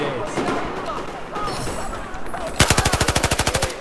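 Voices chatter briefly, then an M249 light machine gun in the shooter game Battlefield 4 opens up in one rapid, sustained burst of evenly spaced, punchy shots, loud and close.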